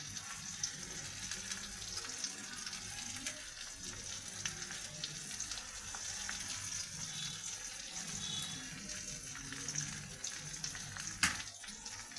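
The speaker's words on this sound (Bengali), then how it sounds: "ভালো করে ডিমগুলো মশলার সঙ্গে কষে নেব।" Eggs sizzle in a pan with spices for an egg tarka, a steady hiss of frying at moderate level with light clinks and a brief sharper knock near the end, no voices.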